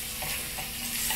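Hot dog chili stirred in a pot, a steady broadband scraping and bubbling texture with a faint sizzle underneath, continuous and fairly close for a short stretch.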